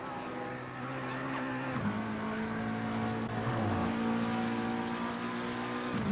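A McLaren race car in Assetto Corsa Competizione at Barcelona drones steadily through a corner, the engine note sliding down then climbing again with a gearshift, with no voices over it.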